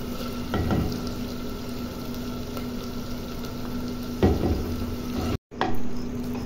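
Mustard greens for sarson ka saag cooking in a hot pan: a steady, close hiss and bubbling sizzle running throughout, with a couple of brief handling knocks and a momentary dropout near the end, no talk.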